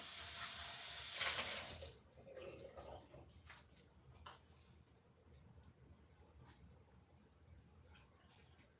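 Tap water runs hard into a cup in a home kitchen for under two seconds, then cuts off, leaving quiet kitchen handling noises and faint clinks.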